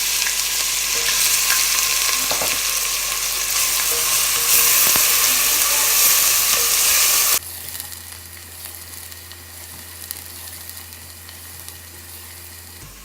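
Chopped onions sizzle and fry steadily in a pan for a kaleji salan, loud and close with occasional stirring, then the sizzle drops to a quieter, steadier hiss partway through; no one speaks.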